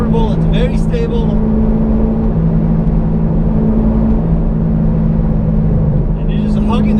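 A Chevy Corvette C6 sweeps through a corner at about 85 mph at 4,000 RPM in fourth gear, its engine a loud, steady drone with road and wind roar throughout, while someone talks over it.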